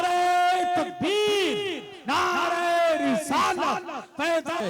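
A crowd at an Ahle Sunnat religious gathering roars back in unison answering the Nara-e-Takbeer call, loud shouted chant bursts with brief pauses between repetitions, voices layered and echoing.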